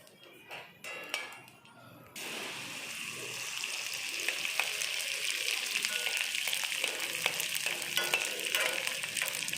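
Edible gum for panjiri fries in oil over a low flame, a steady close sizzle and bubbling that swells after a quieter start, with occasional faint clinks.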